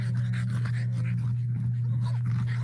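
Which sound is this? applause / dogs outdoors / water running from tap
dogs outdoors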